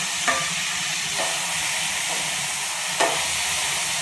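Prawns going into a hot frying pan, a continuous loud sizzle and hiss with a few sharper spurts as pieces hit the oil, no voices.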